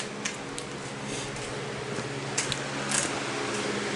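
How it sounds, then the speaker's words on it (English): Electric fan running indoors on a humid, warm day, a steady close whirring hum with faint light knocks over it. "Sorry about the fan."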